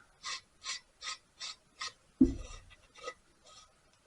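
A wrench ratchets in five even rasping strokes while tightening a nut on a 1924 Maytag model 82 engine, then a sharp metallic clunk and a few fainter clicks.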